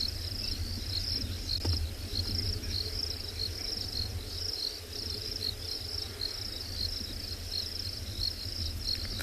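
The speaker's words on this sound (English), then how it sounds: "I don't know if you can hear all the crickets calling around us." A dense chorus of crickets trills continuously at dusk in green South African safari country, a constant high shimmering drone close by and alone.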